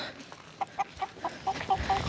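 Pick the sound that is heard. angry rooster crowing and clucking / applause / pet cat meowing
angry rooster crowing and clucking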